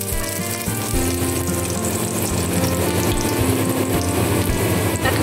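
Garlic frying in plenty of hot oil in a pan for mixed sautéed vegetables, a loud continuous close-up sizzle with a low steady hum underneath, no talking.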